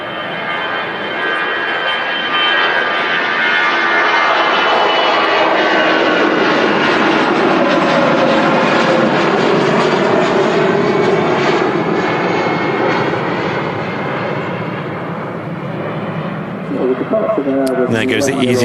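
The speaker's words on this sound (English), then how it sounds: "EasyJet, just floating off the runway there. It's amazing how quick the 319s can rotate." An easyJet Airbus A319 roars down the runway and lifts off at Manchester Airport, a loud sustained jet engine roar with a slowly shifting whine that fades slightly toward the end, with someone talking over it.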